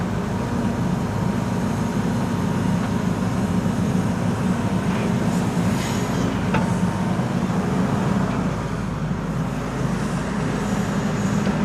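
An Embraer E2 jet passing near Schiphol's Polderbaan runway, heard as a steady broadband low rumble with constant roar throughout, fairly close and unbroken.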